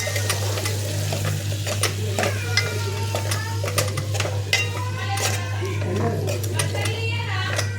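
Three chopped tomatoes go into a hot pan and are stirred, giving a steady sizzle and frequent clinks and scrapes of a spoon on metal, with a low hum underneath and a voice talking over it.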